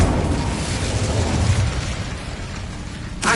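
The Bombarda explosion spell bursts in the video game Hogwarts Legacy, a loud rumbling boom that rolls on for several seconds with a sharp crack at the very end.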